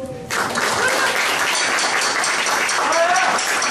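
An audience at a live band concert in a hall breaks into warm applause for a band member's introduction, a sudden dense burst of clapping that holds steady at close range, with faint voices underneath.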